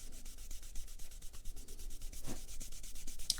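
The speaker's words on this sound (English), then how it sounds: "Light pressure and quick succession of passes over the leather will create heat and friction" Leather edge burnished with Tokonol and a cotton glove gives a steady, fast rubbing rasp of quick repeated passes, close and continuous throughout with no talking.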